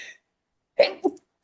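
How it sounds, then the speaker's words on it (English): A person's sneeze bursts out loud and close after a short quiet pause, with a second quick burst following; a brief breathy sound comes just before. "I'm gonna sneeze."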